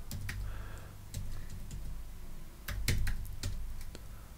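Fingers tap on a computer keyboard in a quiet room, a scattered series of close, crisp clicks with brief pauses between bursts.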